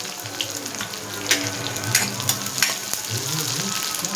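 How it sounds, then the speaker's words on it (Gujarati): Mustard seeds, cumin, curry leaves and onion sizzle in hot oil, a steady loud crackling hiss with sharp spattering pops and brief scrapes of stirring, close up with no voices. "અંદર થોડીક રાઈ, જીરું અને લીમડાના પાન નાખી દઈશું અને પછી નાખી દઈશું ડુંગળી"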